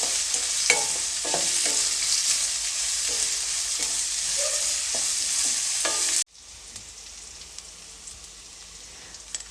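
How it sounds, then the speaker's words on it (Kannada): Chopped onions frying in a pan for Bangalore rava upma, a steady close sizzle with stirring scrapes, dropping abruptly to a quieter hiss partway through; no talk. "ಇವಾಗ ಈರುಳ್ಳಿನ ಒಂದು ಸ್ವಲ್ಪ ಫ್ರೈ ಮಾಡ್ಕೊಳ್ಳಿ ಅಂದರೆ ಈರುಳ್ಳಿ ಸ್ವಲ್ಪ ಸಾಫ್ಟ್ ಆಗಬೇಕು"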